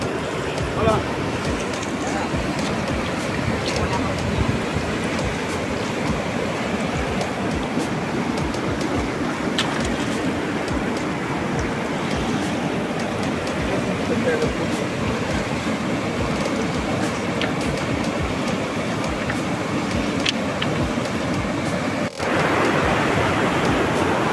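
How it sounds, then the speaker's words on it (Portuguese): Water pours over the spillway of the Itaúna reservoir in a continuous broadband rush, steady and loud for the whole stretch, with a brief dip near the end. "Olha isso, sangrador do Itaúna."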